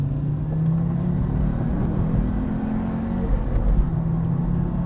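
An Audi Quattro four-wheel drive car drives along with a steady low engine rumble and drone, heard from inside, holding fairly even with a slight rise near the end.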